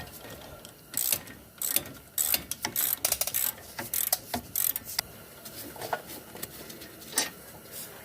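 Ratchet clicking in quick irregular bursts while loosening the caliper bracket bolts on a 2007 Pontiac G6 front brake, close and fairly quiet, with no talking.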